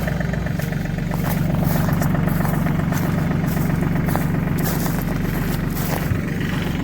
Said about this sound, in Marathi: हे बघा ह्या ब्लोअरनं औषध चालू आहे